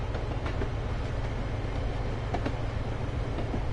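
Steady, continuous rumble of a simulated HSP46 locomotive running on rails in Train Simulator, with faint periodic clicks from the track and no talking.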